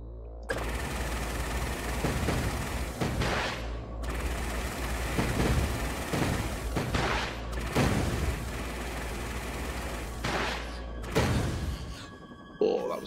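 Repeated bursts of shooting in a Kodu game, with sharp gunfire-like blasts and booms at irregular intervals over a steady low background drone and music.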